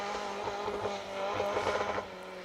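A 1400 Corsa rally car on a cold rally stage, its engine note rising and falling steadily under a whine as the handbrake is flicked, heard from a moderate distance without talk.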